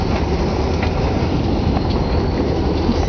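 Railcars of the Berkshire Hills train grind along the track nearby, a steady low rumble with occasional soft clacks from the wheels and no talking.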